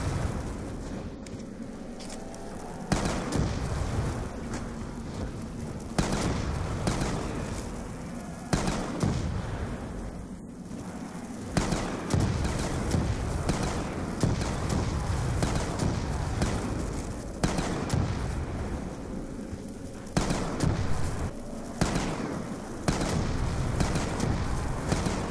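Pack-a-Punched guns firing during a round-15 zombies match in Call of Duty Black Ops, with dense bursts of gunfire and blasts repeating steadily throughout, loud and continuous with brief gaps between volleys.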